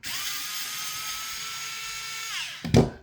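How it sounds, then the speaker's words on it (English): An electric screwdriver whirs steadily for a few seconds while taking the wheels off a TRX4M RC truck, then winds down and stops with a short clunk at the end, close and fairly loud. "when you guys are taking off the wheels with an electric screwdriver"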